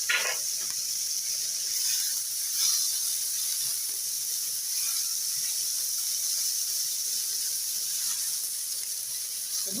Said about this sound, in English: So in the same pan, I'm going to add my many onions.